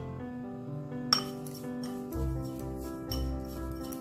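A spoon clinks against a glass while coffee powder and sugar are mixed with a little water for homemade cappuccino, with a sharp tap followed by soft, repeated scraping and clinking over steady background music.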